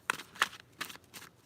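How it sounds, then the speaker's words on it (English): none "let's go ahead and keep shuffling"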